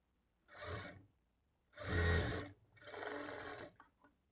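Sewing machine stitching a blouse piece runs in three close, steady whirring bursts of about a second each, separated by short pauses, with a few faint clicks at the end.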